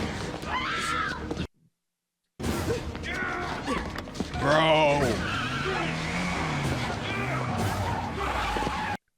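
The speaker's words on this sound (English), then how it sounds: "That boy hopped in the car for real and backed up and left while she's yelling for help." A car in a TV drama scene reverses and drives off with screeching tires, loud and close, while a woman screams and people shout over it.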